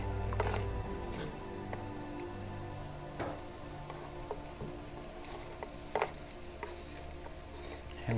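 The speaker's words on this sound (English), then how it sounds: "And you can hear them sizzling, and that sounds awesome." Mixed vegetables sauteing in a pan inside a wood-fired pizza oven, a steady close sizzle and crackle with occasional sharp pops and the clatter of stirring.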